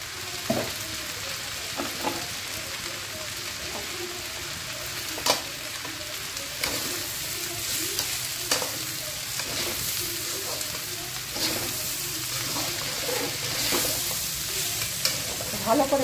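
Pulao rice with turmeric frying in a pan while being stirred, a steady sizzle broken by repeated scraping strokes of the spoon, close and moderately loud with no talking.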